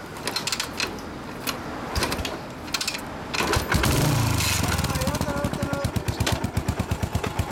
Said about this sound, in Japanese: エンジン音聞かせてもらえる